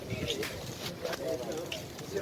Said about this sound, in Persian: کبوتران پاکستانی